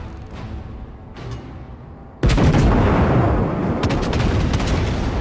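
Heavy battleship main guns firing in World of Warships from the U.S.S. Colorado at an enemy Gneisenau: a couple of faint distant booms, then a sudden loud broadband blast that rolls on as sustained rumbling gunfire.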